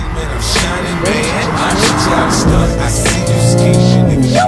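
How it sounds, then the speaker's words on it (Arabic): A limited-production sports car's factory sport exhaust roars loudly and rises in pitch as it accelerates through gears, with cabin rumble throughout. Faint voices can be heard. "صوت السياره مش عادي لانه عليها سبورت اكزوست من الشركه"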